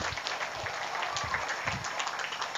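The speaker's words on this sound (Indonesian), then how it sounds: "Tepuk tangan, jangan malas." An audience at a Maulid religious gathering applauds in a modest, steady patter of clapping, somewhat distant and slightly muffled, with faint low voices beneath.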